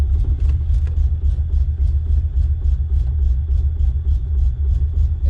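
A Fox Body Mustang with a 331 stroker V8 idles with a lumpy, choppy cam rhythm, deep loud rumble pulsing steadily at close range, with no voices over it.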